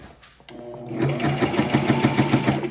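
A Brother XM2701 mechanical sewing machine runs with its needle moving up and down. A brief rustle comes first, then a steady, rapid clatter of stitching repeats evenly and close by.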